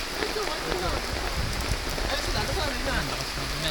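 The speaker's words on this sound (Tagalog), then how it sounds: "Yan, lakas ng ulan." Heavy rain pours down steadily in a Japanese garden, a dense constant hiss of drops hitting surfaces, loud and unbroken throughout.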